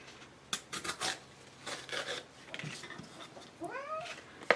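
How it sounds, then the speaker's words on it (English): A pet cat lets out a few short, rising meows near the end, after soft rustling and rasping handling sounds in a quiet room. "The cat's being crazy."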